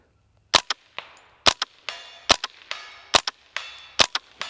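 A suppressed KRISS DMK 22 rifle fires tracer rounds, producing sharp, close cracks at a steady pace, each followed by a short metallic ring or ping from the distant target.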